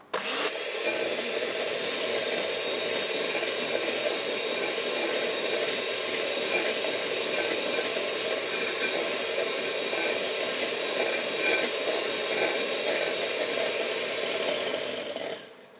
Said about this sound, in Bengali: আমি ফুল স্পিডে হচ্ছে বাটারটা ব্লেন্ড করছি।